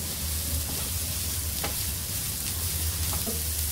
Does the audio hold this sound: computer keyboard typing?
no